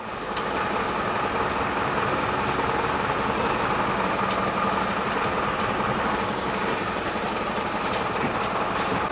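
Van engine idling and pulling slowly out of a barn, a steady close rumble with rattling and clattering throughout.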